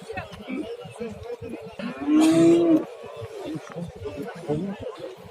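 A cow at a livestock market gives one loud, sustained moo, while nearby people talk and chatter before and after it.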